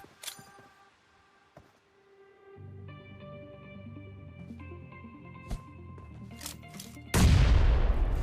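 Mobile battle royale match with a grenade cooked and thrown at an enemy squad, then gunfire: scattered clicks and shots under steady game music, ending in a loud sudden blast.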